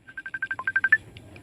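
A phone ringtone chirps in a quick run of about ten short, evenly spaced beeps for an incoming call, fairly faint and close, with no talk.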